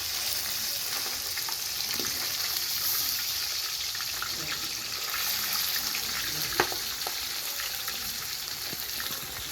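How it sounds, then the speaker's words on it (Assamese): Pieces of fish fry in oil in a home kitchen pan, giving a steady, close hiss of sizzling that runs the whole time with a few faint crackles and no talk. "এয়া মাছ ভাজি আছে"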